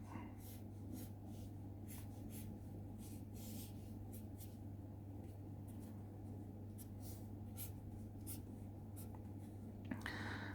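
A pencil draws an Anthurium plant on paper, scratching in short repeated strokes against a steady low hum, close and fairly quiet, with no talking.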